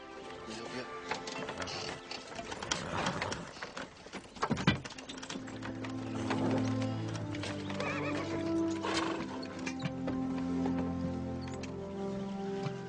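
A horse pulling a wagon, with steady nearby clip-clop hoofbeats, a whinny, and creaking and rattling, while people talk over it.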